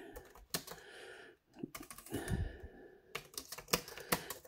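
Quick typing on a ZAGG Pro Keyboard 15 gives close, crisp key clicks in short bursts separated by brief pauses, with no talking.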